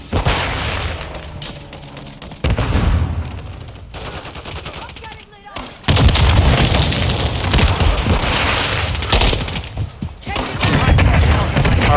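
Heavy, relentless automatic weapon fire and booming explosions in a Modern Warfare 3 hardcore match on the Rust map, loud and close throughout, with a brief lull near the middle.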